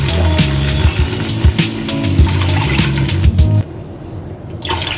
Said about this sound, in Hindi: 3 कप मैंने पानी के डाल दिए।